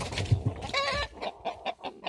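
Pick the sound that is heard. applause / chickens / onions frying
chickens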